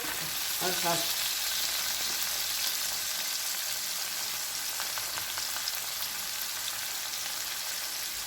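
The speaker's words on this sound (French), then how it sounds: "Donc voilà, je continue à tourner." Paella frying in a pan while being stirred, a steady close hiss of sizzling with a few brief spoon scrapes and clinks early on and again midway, no one speaking.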